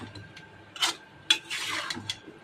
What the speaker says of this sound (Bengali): পেঁপে আর আলুটা একসাথেই ভালো করে কষিয়ে নিব